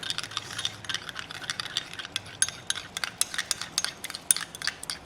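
Two packets of hair dye being stirred and mixed in a bowl, a quick run of close scraping and clicking strokes in an uneven rhythm, with no talking.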